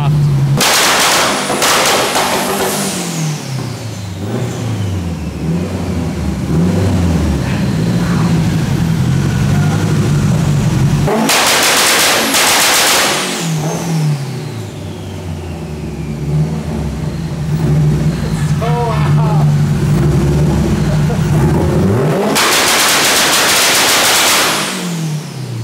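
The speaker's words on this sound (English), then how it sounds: "Ignition only will be the pops and the bangs" Car exhaust in ignition-only mode firing loud pops and bangs in three bursts separated by rumbling, revving engine, close and powerful.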